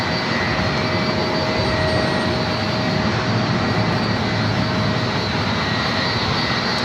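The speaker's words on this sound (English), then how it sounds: "next arrival is American Airlines Flight 3303, coming from Miami," An American Airlines Boeing 737 MAX 8 jet arrives at San Diego airport, heard as a steady, loud, broadband engine roar that holds evenly throughout with no voices present.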